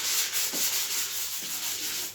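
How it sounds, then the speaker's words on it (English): Fine high-grade sandpaper rubbed over a painted costume helmet, a steady broadband hiss with soft repeated strokes, close and continuous without talk. "a gentle rub with a high grade sandpaper will smooth that off quite nicely"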